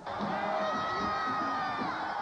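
Massive crowd of more than two million cheering the Mets at a ticker tape parade in lower Manhattan in 1986, a dense, continuous roar of whoops and shouts.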